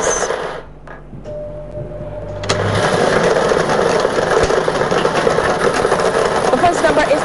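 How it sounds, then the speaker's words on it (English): A lottery draw machine mixes balls in its chamber during an evening Double Draw. A steady whirring rattle rises partway through and continues to the end, with a voice speaking at times. "The balls are released from the staging tube into the chamber."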